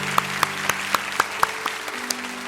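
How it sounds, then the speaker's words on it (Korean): A church congregation bursts into applause to bless twelve serving elders, with sharp individual claps standing out over a steady, moderately loud wash of hand-clapping that lasts a couple of seconds. "최희규 장로님, 홍정석 장로님, 우리 12분의 시무 장로님 한번 큰 박수로 축복해 주시면 감사하겠습니다"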